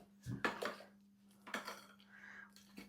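Japanese cheesecake batter mixed in a bowl, with a few scraping and clinking strokes of a utensil against the bowl, close and fairly quiet, separated by short pauses.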